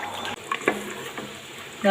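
Soaked green peas hit a hot pan and crackle into a brief, busy sizzle with stirring clatter close by.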